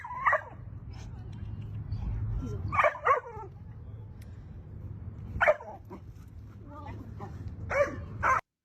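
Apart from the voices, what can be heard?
puppy Diesel barking excitedly on leash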